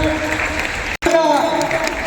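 An audience at a talent-honour ceremony held by a college in Ghazipur claps in dense, sustained applause, briefly cut off for an instant midway, with speech heard over the clapping.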